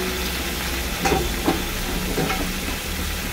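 Food fries in oil in a kadai, with a steady loud sizzle throughout and a few brief stirring scrapes breaking through.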